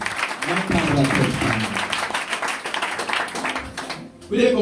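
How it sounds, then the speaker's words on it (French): A church congregation applauds, rapid, dense clapping building through the stretch with voices mixed in and a brief pause near the end. "Est-ce qu'on peut donner une acclamation pour la servante de l'Éternel?"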